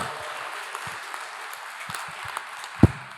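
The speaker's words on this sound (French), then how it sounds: "On peut vous applaudir." Conference audience applauding at an afternoon plenary session on e-health, a steady broadband clapping that fills the whole clip, with a single sharp knock near the end.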